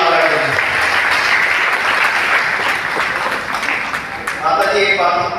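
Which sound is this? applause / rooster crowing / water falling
applause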